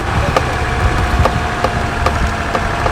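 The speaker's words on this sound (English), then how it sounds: "It sounds like a bakkie engine." A Volkswagen Amarok V6 pickup's engine idles loudly and steadily, a low rumbling drone with a faint regular ticking pulse throughout.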